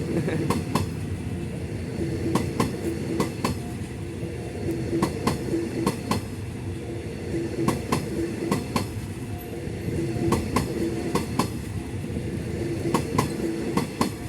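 A southern-line express passenger train hauled by Hitachi locomotive 4516 rumbles past nearby, wheels clacking rhythmically over rail joints in a steady repeating pattern, loud and continuous throughout.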